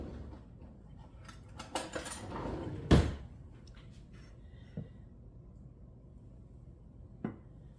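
A knife slices through a pumpkin roll, giving a few clinks and scrapes against a plate or board. One sharper knock stands out, followed by sparse, faint taps in a quiet kitchen.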